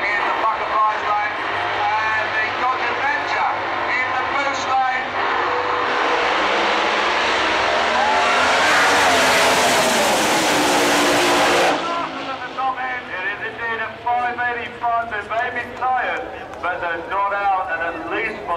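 A Komatsu Tools Dodge Stratus Top Methanol Funny Car roars down the drag strip in a semi-final run at Santa Pod, its engine note rising to a loud, sustained blast before fading, with a commentator talking over it throughout.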